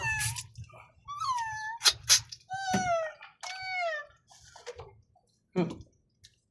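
A cat meows several times in quick succession, close and clear, with short pauses between cries and a soft voice nearby.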